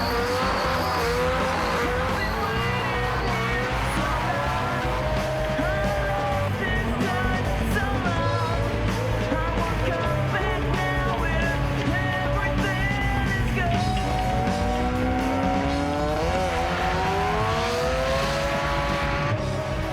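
A Mazda RX-7 and a 20B Cosmo race side by side, their rotary engines whining loud and steady while the tires squeal in long rising and falling screeches throughout.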